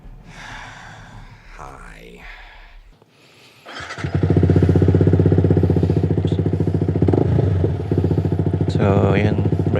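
A Yamaha R15 V3 motorcycle fitted with a Mivv Suono aftermarket exhaust idles loud and close. A softer, uneven stretch gives way to a deep, steady, throbbing idle that holds to the end, with a faint voice briefly near the close.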